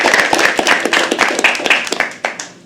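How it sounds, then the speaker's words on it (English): An audience at a live poetry open mic claps steadily in a dense, rapid patter that starts full and tapers slightly toward the end. The applause is fairly close and dominant, with a faint voice underneath. "Can we have a round of applause for Harsh?"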